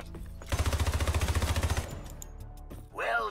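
Rapid automatic weapon fire aimed at training bots in the Hypercharge Unboxed video game tutorial, a dense burst of about twenty shots over roughly a second and a half, loud and close, followed by quieter game effects.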